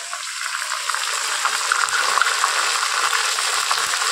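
Ground onion paste hitting a pot of mutton gives a loud, steady sizzle and bubbling close by, continuous throughout with no talking.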